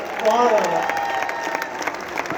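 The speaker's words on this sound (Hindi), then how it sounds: "इतना जोरदार तालियां होनी चाहिए शिवम" A crowd at a poetry recital at NIT Jalandhar claps for the poet Shivam Bhagwati, a full round of applause with a voice rising briefly over it near the start.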